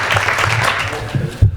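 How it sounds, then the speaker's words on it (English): Audience applause at a sports talk show event, steady clapping from a crowd that fades near the end, with a louder low thump just before it stops. "let's hear a round of applause for Jim."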